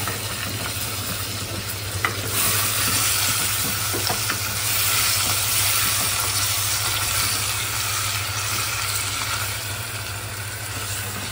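Chicken being stir-fried in a pan for yakhni pulao, a steady loud sizzle with faint scraping of stirring running throughout, with no voices.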